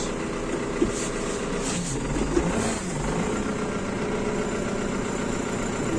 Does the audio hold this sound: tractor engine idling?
yes